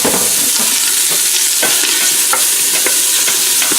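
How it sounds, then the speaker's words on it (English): Chunked white onion sizzles loudly in a hot pan, a dense hiss broken by frequent sharp scrapes and clicks of stirring. Close and continuous, with no talking. "I'm going to add in 1 white onion that I just chunked up into 1-inch pieces."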